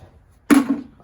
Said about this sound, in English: there's the cow too. If you can hear her, she's very upset too